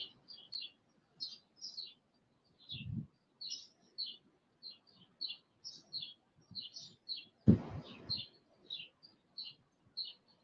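Many small birds chirp and tweet outdoors in quick repeated bursts throughout, fairly close and clear, with a couple of brief low rustling thumps partway through.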